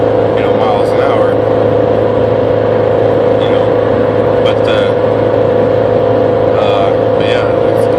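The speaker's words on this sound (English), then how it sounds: "I'm pretty sure my engine noise is going to get picked up in this video" Steady engine drone and tire rumble from a car cruising on a highway at about 140, a constant loud hum filling the cabin throughout with a few faint higher chirps over it.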